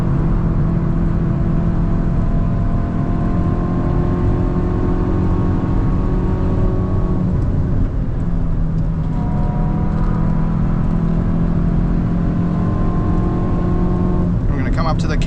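A Hyundai hot hatch, an i20 N or i30 N, holds a steady high-rev engine drone on the Nurburgring in fourth gear, with a loud continuous in-car tone that dips briefly midway and then resumes.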